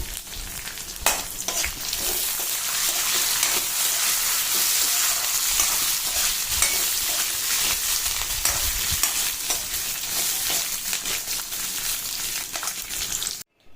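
Coconut pieces and curry leaves fry in oil for a snake gourd curry, giving a loud, even crackling sizzle that holds for the whole stretch with no voices.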